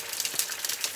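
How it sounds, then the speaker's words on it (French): Celeriac fries sizzle in an oil bath, a dense, steady crackle of frying with small bursts of popping, close and fairly quiet. "les frites ne vont pas exploser dans le bain d'huile"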